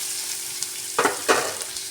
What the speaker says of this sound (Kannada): ಇದಕ್ಕೆ ನಾನಿವಾಗ ಜಿಂಜರ್ ಗಾರ್ಲಿಕ್ ಪೇಸ್ಟ್ ಹಾಕ್ತಾಯಿದ್ದೀನಿ.